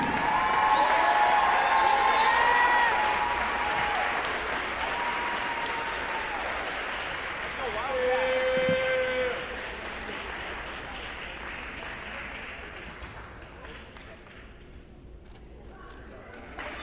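Applause with some cheering rises for a state Class 5A all-tournament volleyball team at a championship awards presentation, loud at first and then thinning out over several seconds as a crowd murmurs beneath.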